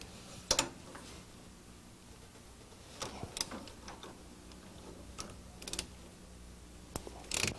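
A ratchet with a 13 mm wobble-head socket loosens the valve cover nuts on a Porsche 911 engine, producing bursts of quick mechanical clicking and metallic ticks, close up against a low background hum, with no talking.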